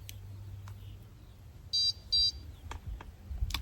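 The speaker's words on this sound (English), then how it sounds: "I've got my bite alarm today" An angler's fishing bite alarm gives two short, sharp electronic beeps close by, set against a quiet outdoor background with a few faint clicks.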